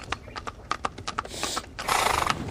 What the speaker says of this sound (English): followed shortly by the rattle of wheels and chink of horses' hoofs